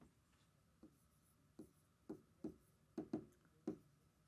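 A pen writes on paper during a math lesson, leaving a string of quiet, close taps and short scratchy strokes at an uneven pace.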